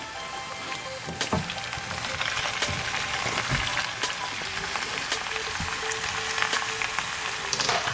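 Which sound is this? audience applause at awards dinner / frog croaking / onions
onions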